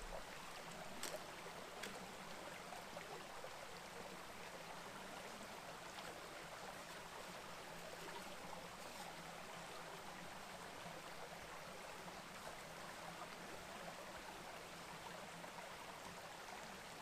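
Creek water running over rocks on a forest trail in Talladega National Forest, Alabama, a faint, steady wash of flowing water without pause, a few soft clicks on top and no voices.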